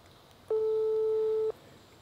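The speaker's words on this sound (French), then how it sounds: "Ça sonne." A single steady telephone ring tone lasting about a second, heard through a speakerphone over faint background hiss.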